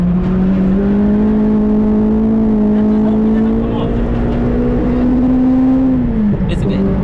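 Cars running at the Castle Combe race track, a loud, steady engine drone holding one pitch for several seconds before dropping off, close and continuous.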